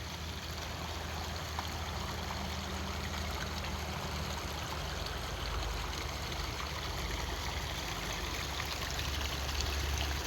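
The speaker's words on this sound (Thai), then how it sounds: "อันนี้มีแม่น้ำห้วยน้อยอีก" A small creek flows steadily beneath a bridge in the Thai countryside, producing a continuous, even wash of rushing, trickling water close by with no pauses and no voices.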